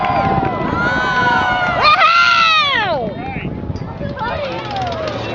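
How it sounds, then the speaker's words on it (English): A crowd at an outdoor antique tractor demonstration screams and cheers in high excited voices, swelling loudly in the middle over a steady engine rumble and continuing noise. "Crowd, make some noise."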